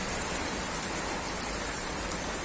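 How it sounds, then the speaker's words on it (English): Hail falls steadily onto a street in Albox, a dense, continuous hiss of icy pellets hitting the pavement, loud and close with no voices. "This is hail, this isn't rain"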